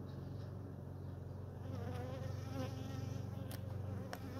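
Agitated honeybees at a hive during a formic acid treatment, a dense, continuous close buzzing swarm hum that holds steady throughout, with no talking.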